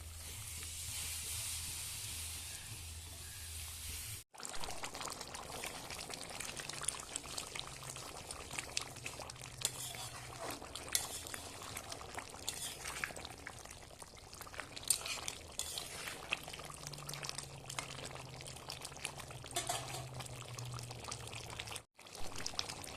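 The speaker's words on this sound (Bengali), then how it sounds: "মাংসটা কষিয়ে নেওয়া হয়ে গেছে, এবার জল দিয়ে দেবো।" Water goes into duck meat curry cooking in a pot, a faint, steady pouring hiss that runs on for a long stretch with low bubbling underneath and a couple of brief breaks.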